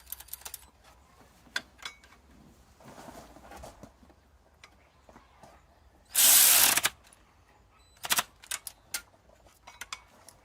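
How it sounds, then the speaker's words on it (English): A 13 mm bolt on the timing belt tensioner of a 1995-1997 Mazda B2300 gets tightened by hand: scattered close metallic clicks and taps, with one loud, harsh burst of a bit under a second partway through. "put tension on it and then tighten up that 13 millimeter bolt"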